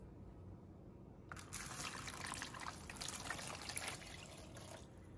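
Water poured steadily over water beads in a sensory bin, a continuous close splashing trickle that starts abruptly after a quiet moment and runs for several seconds.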